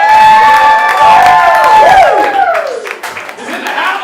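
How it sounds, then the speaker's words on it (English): A comedy roast audience cheers and applauds loudly, whoops and shouts rising over clapping for a few seconds, with a voice calling out over the crowd. "Let's give a big round of applause to Mr."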